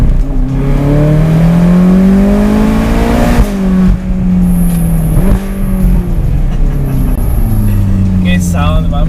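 A Ferrari California with a front-mounted, naturally aspirated direct-injection V8 revs hard, rising and falling in pitch through repeated pulls, loud and close for the whole stretch, with brief higher engine tones near the end.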